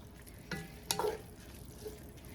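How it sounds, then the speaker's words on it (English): Ground beef browning in a pan for chili, a quiet sizzle with a couple of sharp spoon scrapes and clinks, close but soft. "So I'm gonna continue stirring this"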